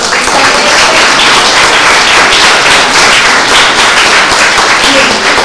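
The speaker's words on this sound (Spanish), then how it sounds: "yo le pido a los chicos y chicas que le demos un enorme aplauso" A crowd of boys and girls gives a huge round of applause at a Migrant Week anniversary event, loud and dense clapping sustained evenly without a break, close and full.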